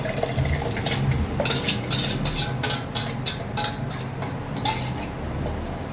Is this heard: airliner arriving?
no